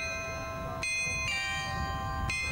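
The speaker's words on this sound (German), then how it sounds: "Viermal am Tag ein Glockenspiel." The Iserlohn town carillon, a gift of the district craftsmen's association, chimes bright ringing bell notes, a few struck tones sustaining and overlapping, clear and prominent with no talk.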